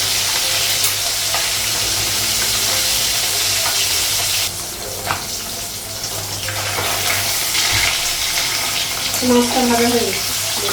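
Pieces of rohu fish frying in a pan in a home kitchen, a steady close sizzle with stirring and scraping, and a voice briefly heard over it.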